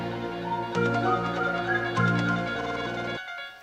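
Chopped, reversed fragments of the X-Files theme with eerie melodic tones stutter and shift in short slices, dense and layered, cutting off abruptly near the end.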